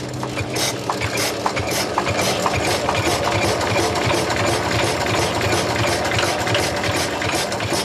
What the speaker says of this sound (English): This is what runs the milking machine, is it?